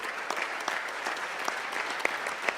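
Steady audience applause at a startup pitching competition final for the company Like Local, a dense even patter of many hands clapping throughout with no voices over it.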